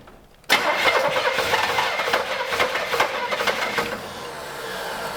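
An old V8 Buick LeSabre engine, left unrun for 34 years, cranks after silence with throttle applied, a loud, steady, rhythmic churning that rises abruptly then slowly fades toward the end, with no voices.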